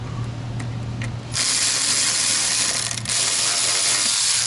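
A ratchet wrench loosens a nut on a Jeep Cherokee ECU, giving a steady, close clicking rasp that runs on after a quieter start.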